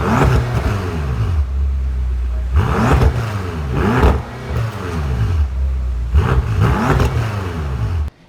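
A 2012–2016 BMW M5 with a twin-turbo V8 roars through repeated loud revs, climbing and dropping in pitch three times at close range with brief lulls between, and no talking over it.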